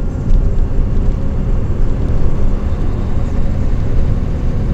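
Low, loud rumble of a night highway bus on the Tomei Expressway, heard from inside the cabin as a steady engine and road drone from under the floor with no talking.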